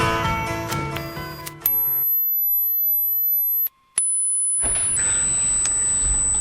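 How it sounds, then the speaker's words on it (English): A mosquito anti-loitering device used at shops and public places gives a piercing, boosted high-pitched steady tone that cuts out briefly, then returns at slightly lower pitches, after a short burst of mixed noise. "That's the sound of a mosquito device which has been put up at shops and in public places"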